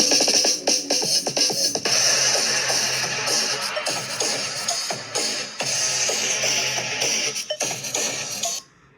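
An instrumental sampled track plays without its drums, a dense continuous wash of layered melodic and textured sound, steady and loud throughout before ending abruptly.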